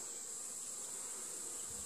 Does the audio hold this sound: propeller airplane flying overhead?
no